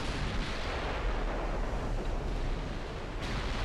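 Naval guns firing salvos in the warship game Ultimate Admiral Dreadnoughts, a dense continuous roar of heavy booming fire and rumble with no clear gaps, loud and steady throughout.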